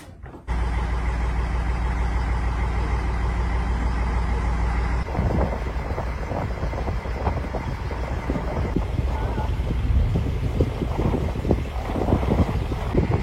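Motor boat ride on the sea off Bagda beach: a constant low engine drone under rushing wind, with choppy splashes and hull slaps joining about five seconds in, continuing loud and steady throughout.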